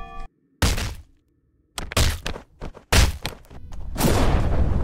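Contact grenades detonating in the VR game Blade and Sorcery, several sharp heavy blasts with crunching debris in quick irregular succession, separated by brief silences and ending in a sustained rumbling crash.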